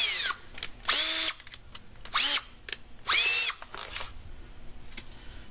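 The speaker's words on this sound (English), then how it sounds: "I have a Scotch-Brite pad, and you just run the drill and polish those up." A power drill spins a Scotch-Brite pad to polish ATE brake rotors during a Volvo 850 front brake job, whining in four short bursts with rising and falling pitch and brief quiet gaps between.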